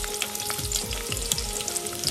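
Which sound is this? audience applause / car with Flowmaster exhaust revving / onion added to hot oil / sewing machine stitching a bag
onion added to hot oil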